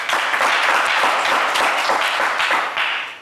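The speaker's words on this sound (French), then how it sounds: "On vous applaudit bien fort." Audience applause on a televised game show, a dense, loud burst of clapping from a studio crowd that holds steady for about three seconds before starting to fade.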